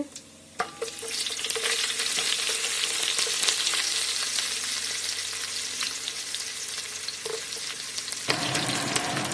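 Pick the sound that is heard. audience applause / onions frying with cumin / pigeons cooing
onions frying with cumin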